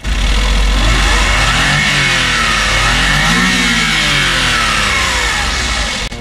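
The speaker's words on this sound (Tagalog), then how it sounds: "Goods na goods yung makina natin." Suzuki Every wagon, a second-hand right-hand-drive van converted to left-hand drive, with its engine running close by and revving in rising and falling sweeps, steady and loud throughout with no talking.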